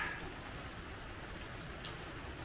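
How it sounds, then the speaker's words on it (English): Heavy night rain falls in a steady, dense hiss by a lake, loud and unbroken throughout with no voices. "Rained all day and it's got really heavy just as it got dark"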